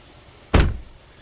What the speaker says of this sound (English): make sure your doors are opening and closing from the outside and also the inside.